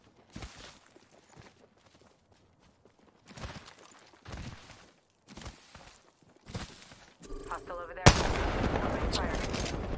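Bursts of gunfire from an Apex Legends battle: short clusters of shots spaced a second or so apart, then a louder, denser rush of noise near the end.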